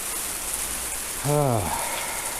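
Rain falls outdoors as a dense, continuous hiss, with a brief voice-like tone rising over it near the middle.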